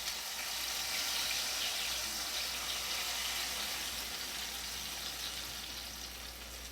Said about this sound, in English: Now I'm going to pour my blended ingredients in.